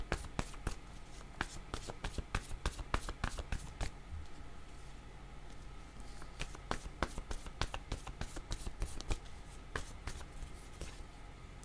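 Tarot-style cards shuffled and drawn for a reading, quiet close riffling and sharp flicks in irregular bursts, soft and near, with no talk.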